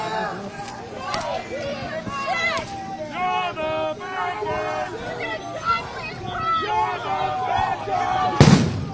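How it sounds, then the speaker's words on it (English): Outdoor street protest in Minneapolis where flashbang grenades and tear gas are going off: a crowd talks and shouts throughout, then one sharp loud bang bursts near the end. "More tear gas and flashbangs going off here."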